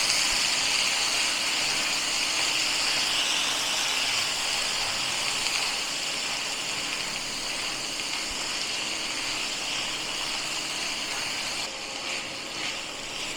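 Golden-fried onions sizzle in a pan after a splash of water, giving a steady, soft hiss that carries on evenly throughout with no talking.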